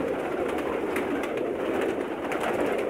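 Pakistani pearl pigeons of mixed breeds at a breeder's loft coo steadily and softly, several birds overlapping in a continuous low murmur with no talking.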